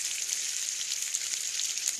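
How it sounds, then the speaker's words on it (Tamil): Cumin seeds sizzle and crackle in hot oil in a kadai while tempering for a South Indian dal kuzhambu, a bright continuous frying hiss heard close and alone. "வடச்சட்டியில் எண்ணெய் ஊற்றி சீரகம் போட்டு தாளித்து"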